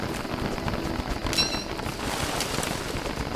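Steady rain falls in a Don't Starve game world, a dense, even hiss of drops with a faint wind undertone, continuous and uniform throughout without any speech.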